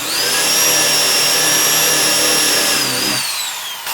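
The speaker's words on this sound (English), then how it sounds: "I'm drilling basically to the bottom of the cutting edge of the bit" A power drill bores into a Nichiha brick-style fiber cement wall panel, running as a loud, steady whine that holds for about three seconds before it winds down and stops.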